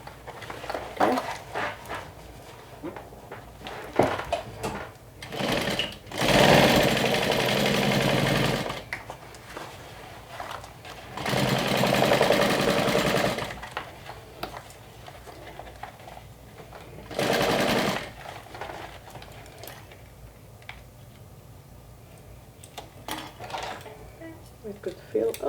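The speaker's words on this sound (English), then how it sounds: "we're going to stitch this down with a 3/8 of an inch seam allowance" A sewing machine stitches a 3/8-inch seam on a fabric saddle bag in three loud, steady bursts of whirring, close by, separated by quieter handling noises.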